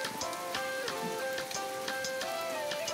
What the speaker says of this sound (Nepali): यो लामो खडेपछि बल्ल बल्ल आज पानी परेको